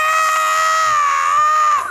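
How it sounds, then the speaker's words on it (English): A shrill, sustained rabbit death scream from the movie Night of the Lepus, loud and wavering like an infant's wail, lasting under two seconds on its own. "The bunny death scream."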